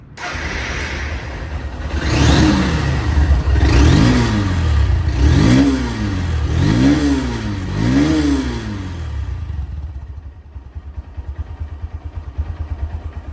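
A 2024 Honda Hornet CBS motorcycle in showroom condition revs repeatedly, its engine note rising and falling in about four loud, close bursts over a steady idle, then settling back to a rough idle.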